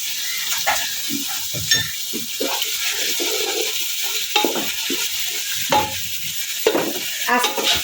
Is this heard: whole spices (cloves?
yes